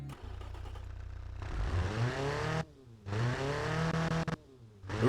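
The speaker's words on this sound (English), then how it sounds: "It really feels as if it wants to rev a bit higher." A small car engine fitted with a 1-inch exhaust revs up in several close, raspy bursts, rising and falling in pitch with short idle gaps between.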